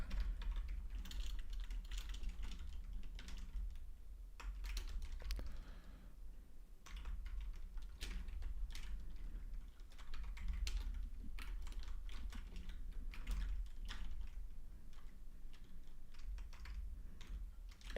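Steady computer keyboard typing runs throughout, with dense clusters of key clicks and brief pauses, close and fairly quiet during gameplay, with no voices.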